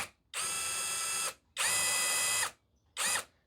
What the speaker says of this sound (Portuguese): Eu vou começar a furação nessa direção aqui.